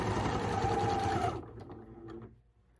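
A sewing machine runs a fast, close, buzzing stitch through a fabric casserole carrier, doing a short reverse stitch, then slows and stops within about two seconds.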